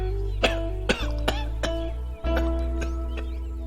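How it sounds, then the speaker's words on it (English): A man coughs repeatedly, several harsh separate coughs spaced about half a second apart, close and loud with a throaty catch, no talking. "More coughing. More blood."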